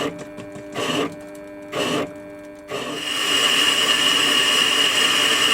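A WARCO lathe turns an ER32 collet chuck against a standard carbide-tipped tool. Two short whirring bursts over a steady motor hum give way to a continuous, louder hiss of cutting up close.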